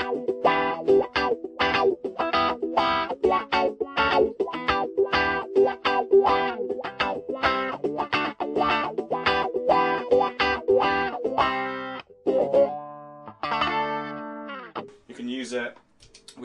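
Electric guitar played through a distortion effect for a lead tone, a run of rapid, chopped harmonic-rich notes in steady rhythm, followed by sparser, sustained notes near the end.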